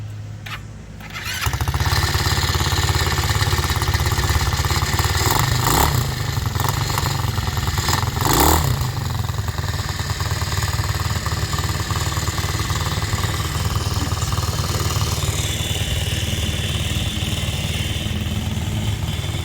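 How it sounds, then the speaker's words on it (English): Chinese-made 150 cc dune buggies, a Baja Dune, Tomberlin Crossfire and Punisher, crank and fire up, then settle into a loud, steady engine drone close by, with a few revving swells along the way. "We're going to start them all up real quick. I'll let you hear them all run."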